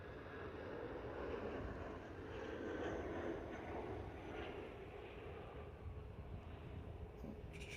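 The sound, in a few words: airplane landing at Liverpool Airport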